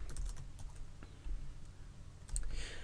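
Keys clatter on a computer keyboard in short uneven bursts, close and fairly crisp, a few firmer strokes standing out, with no one speaking.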